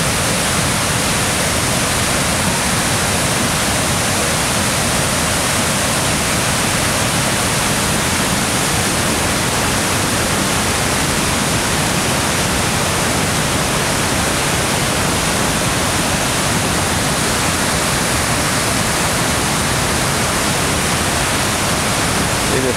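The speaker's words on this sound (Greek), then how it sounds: "Βλέπετε τι κατεβάζει το ποτάμι." Loud, constant rushing water roars without pause, a dense broadband wash like a swollen river in full flow, at Garefeio, Almopia, Greece.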